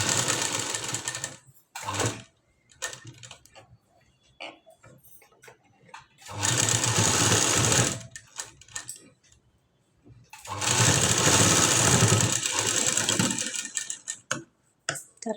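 Sewing machine stitching a blouse hook, running in three bursts of steady rapid stitching separated by quiet pauses with small handling clicks; close and fairly loud.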